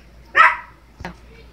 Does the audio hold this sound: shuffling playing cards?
no